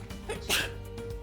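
A single sharp sneeze cuts through a quiet room inside a nursing and physician assistant school's simulation area, brief and fairly close.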